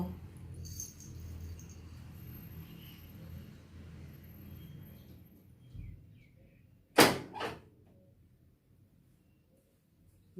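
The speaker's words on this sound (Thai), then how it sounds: "ไปปิดประตูก่อนเนาะ" A door is pulled shut indoors in a quiet home: a sharp, loud double thud about two-thirds of the way through, following a faint, steady room hum.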